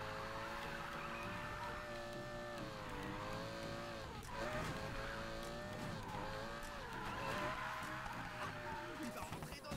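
A race car in Need for Speed Payback roars through the game with a high, continuous engine whine that rises and falls through gear changes, with tyre squeal and a siren-like tone. The sound stays loud and dense throughout.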